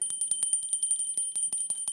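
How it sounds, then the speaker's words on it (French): A small hand bell rings rapidly and steadily, about ten quick bright strikes per second, a clear metallic jingle heard alone at close range. "Petite cloche, à toi de jouer."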